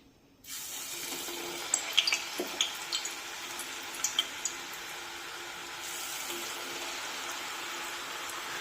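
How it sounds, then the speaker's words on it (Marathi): Rice-flour chakli drops into medium-hot oil on a gas stove and sizzles with a steady, bright hiss that starts abruptly and continues throughout, with a few crackling pops early on. "आता गॅस मध्यमच ठेवूया आणि या तेलामध्ये चकली सोडूया।"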